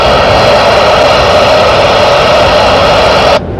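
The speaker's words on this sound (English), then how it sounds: "That's our train scanner." Train radio scanner noise inside a truck cab, a loud, flat, steady static hiss that holds constant and then cuts off abruptly near the end.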